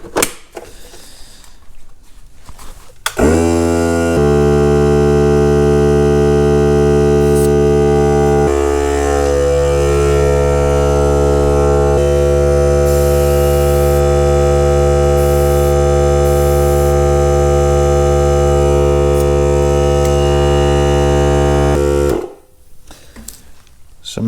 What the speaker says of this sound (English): I'm gonna use my Ryobi air compressor here to inflate these tires.